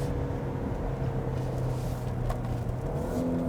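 A 2022 Genesis G80 Sport with all-wheel drive and rear-wheel steering accelerates hard through a tight left turn at night, its engine a steady, loud drone from inside the cabin with no talking.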